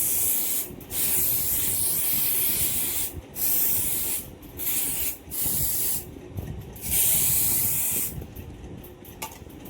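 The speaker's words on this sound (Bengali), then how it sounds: "ঘরটা অনেক দিন ধরে বন্ধ রয়েছে, তো একটুখানি রুম ফ্রেশনার দান দিলে" Room freshener sprayed in a long-closed room: a run of close, loud aerosol hisses in bursts of varying length, separated by short pauses, with no one talking.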